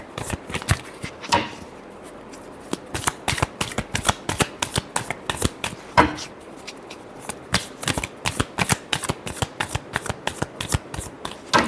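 Tarot cards being shuffled by hand, a rapid run of crisp riffling flicks and slaps up close, coming in bursts with short pauses between them.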